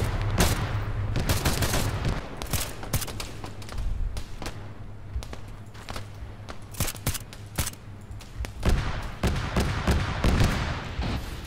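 Bursts of gunfire in Arma 3 come as rapid automatic volleys and sharp single shots, loud and close, with short pauses between clusters over a low engine rumble that drops out partway through.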